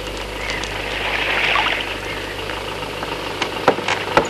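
A car engine rumbles low and steady as a vehicle drives in, swelling slightly, then a few sharp knocks and clatters near the end.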